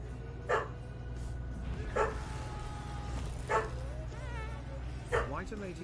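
Dogs bark indoors in four separate, evenly spaced yips over a low steady hum, each short and moderately close, with brief whining tones between them.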